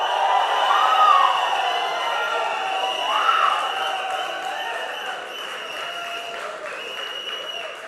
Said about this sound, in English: I need a loud cheer